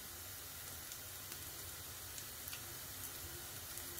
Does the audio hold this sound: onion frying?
yes